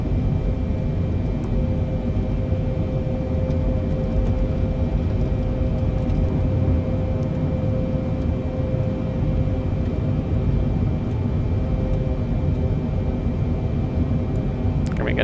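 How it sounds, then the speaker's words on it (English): Boeing 747 airliner engines in Microsoft Flight Simulator during an autoland approach in rough weather, a loud steady low rumble and roar with a faint whine held unchanged throughout, no voices. "Been a while that I was flying with the 747, so we're gonna have the plane handle this one."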